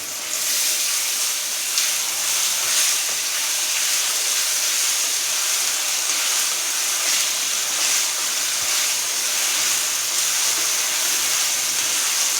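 Sliced onions sizzle steadily in a hot pan while jeera rice is cooked, a continuous close hiss and crackle without a break and no talk over it.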